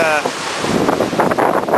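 Strong gusty wind of about 25 to 29 knots blowing over a lake, roaring in loud buffeting bursts against the microphone.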